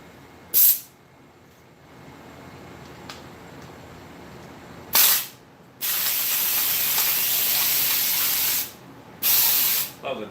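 Shop sprayer giving sharp bursts of loud air hiss, two short blasts then a long sustained spray and a final burst, alone with no talk.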